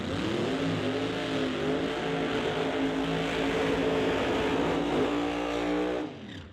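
Pro Modified drag cars, including Justin Bond's 1969 Chevy Camaro, launching side by side in West Coast qualifying: a loud, sustained engine roar with rising harmonics that holds for about six seconds, then fades away.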